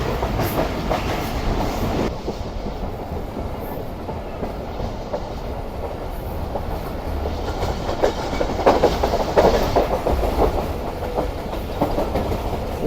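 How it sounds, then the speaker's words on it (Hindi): Rehman Baba Express approaching Hyderabad Junction station, heard from inside a carriage: a constant loud rumble with rhythmic clickety-clack of wheels, growing slightly busier and louder in the later seconds. "हमारी ट्रेन तकरीबन अप्रोच बना रही है हैदराबाद जंक्शन रेलवे स्टेशन"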